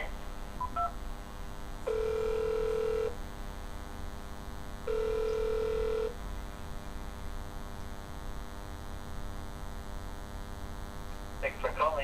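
Two long steady telephone keypad tones sound during an automated customer service call with Time Warner Cable, each about a second, clear and alone over a constant background hum.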